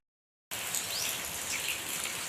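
Steady rain pours down near a temple in Gujarat, a dense even hiss that starts abruptly and continues without a break, with faint bird chirps in the background.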